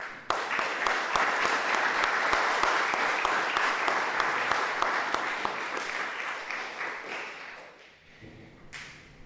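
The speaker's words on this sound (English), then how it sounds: "I would like to ask you to give yourselves a round of applause." Sustained audience applause at the Global Dignity IJR 2019 presentation day fills the room with dense clapping, holding steady for several seconds before thinning and trailing off toward the end.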